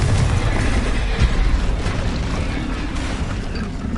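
A Confringo fire spell explosion in Hogwarts Legacy, a dense, sustained roaring burst of noise with a heavy low rumble, steady and loud throughout with a brief surge partway through.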